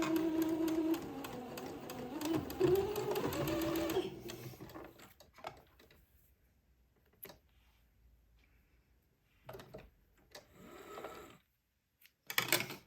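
A sewing machine stitches the first pass of a French seam on lace for a little white dress, running in a close, steady mechanical whir for about four seconds before stopping, followed by faint handling noises and quiet gaps.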